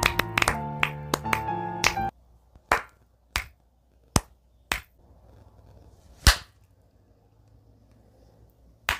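A lone person claps in short, sharp smacks, spaced apart with pauses between them and ending in one last loud clap. A few quick claps overlap a voice at first, then the rest ring out alone in a quiet room.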